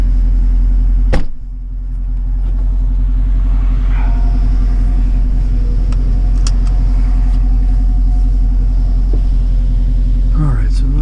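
A 2018 Dodge Challenger R/T Scat Pack with a 6.4L 392 Hemi V8 and an AIRAID cold air intake idles with a loud, deep, steady rumble and one sharp blip near the start.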